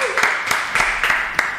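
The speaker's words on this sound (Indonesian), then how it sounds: "tepuk tangan buat mereka berdua" Applause for two guests at a podcast recording, a short burst of steady clapping with several sharper accents, fairly close and moderately loud.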